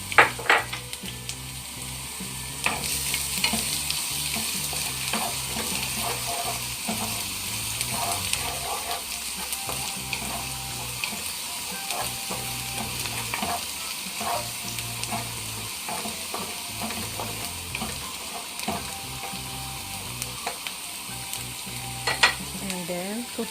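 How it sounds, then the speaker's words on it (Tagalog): Garlic sautés in hot oil in a wok or pan, giving a continuous crackling sizzle with scattered pops and stirring scrapes throughout, close and steady. "Heat the oil. Saute the garlic first."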